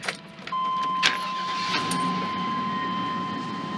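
A vehicle engine misfiring and running rough on only one cylinder idles steadily and close by, with a faint whine over the rumble and a few brief clicks and clanks.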